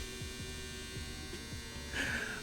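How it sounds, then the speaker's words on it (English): A household clothes dryer runs steadily indoors, a low continuous hum and mechanical drone with a faint rhythmic tumbling thump, a brief brighter whine near the end. "That's my dryer."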